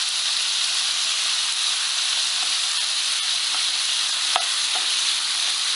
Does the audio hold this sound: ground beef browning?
yes